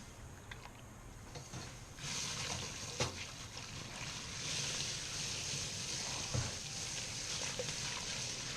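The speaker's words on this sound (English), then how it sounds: "we're going to start dumping in our grains here and mashing in, or doughing in, as they call it." Grain being dumped and stirred into hot mash water with a wire whisk during all-grain beer brewing, giving a steady close wet sloshing and trickling hiss with occasional splashy knocks.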